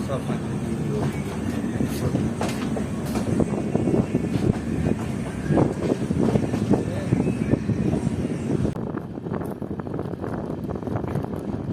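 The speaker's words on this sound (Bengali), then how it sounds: "আমাদের ট্রেন ক্রস করছে এখন বঙ্গাইগাঁও রেলওয়ে স্টেশন।" Intercity express train running on rails near Bongaigaon station, a continuous loud rumble and clatter of wheels with rhythmic knocks and a rushing wind-like hiss throughout.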